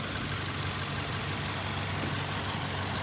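A 2013 Toyota Kijang Innova 2.0 G with a manual gearbox idles steadily, giving a constant, even engine hum with a faint mechanical clatter and no voices over it.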